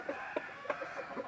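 A fighting rooster clucks softly in a series of short, quiet, evenly spaced clucks over about a second.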